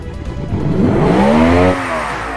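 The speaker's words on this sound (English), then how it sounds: "Let's listen to this engine." A 12,000 RPM V8 engine in a kei car in a video game revs up in a rising whine, holds briefly, then drops off, loud and close with no talking.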